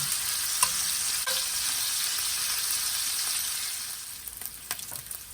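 Bacon sizzling steadily in a frying pan as it browns, a loud, close hiss that runs the whole time with a few sharp pops and utensil clicks near the end.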